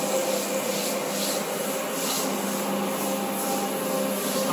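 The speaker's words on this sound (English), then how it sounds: "So we're just going to keep buffing through" A floor buffer works solvent across a tile floor to strip old sealer, giving a steady, unbroken scrubbing whir at close range that holds an even level throughout.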